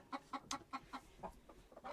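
Homestead chickens clucking close by, a quick run of about ten short, evenly spaced clucks over two seconds, fairly quiet and alone.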